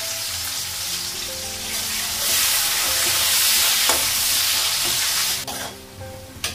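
Onions with cardamom and green chili sizzle and fry loudly in a pan, a steady close hiss with occasional stirring scrapes and clinks near the end.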